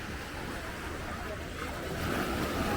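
Waves washing in at Samae Beach on Coral Island, Thailand, a steady broadband rush of surf with some wind noise, swelling slightly louder toward the end.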